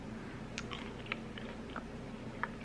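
Someone bites into homemade crispy meat chips, dehydrated for about five hours, giving a few sparse, quiet crunches with soft chewing between them over a low background hum.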